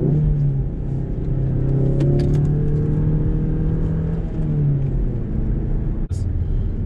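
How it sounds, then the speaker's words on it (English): A manual-transmission car engine hums steadily, then its pitch sweeps as the driver downshifts and blips the revs, loud and close throughout, ending in a brief sharp knock. "I'm going to downshift for this turn here."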